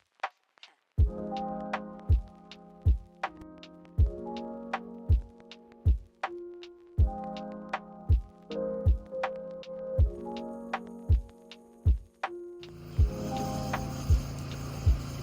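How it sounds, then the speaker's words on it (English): A mechanical log block splitter works through wood in a bush setting, giving a steady run of sharp knocks and thuds about every half second, with a low mechanical drone underneath and a rougher, louder stretch near the end. "That noise you can hear is our mechanical block splitter."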